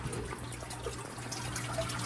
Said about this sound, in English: And then the water just falls back in the aquarium.